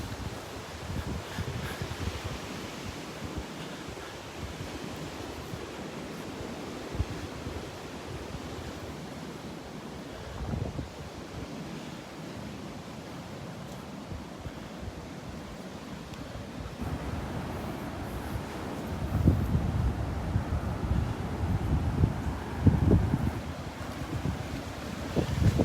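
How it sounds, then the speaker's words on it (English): Strong wind buffets the microphone on a beach in North Naples, Florida, with ocean surf rolling in underneath, a steady roar that swells louder toward the end. "Go up here and get out of the wind for a second."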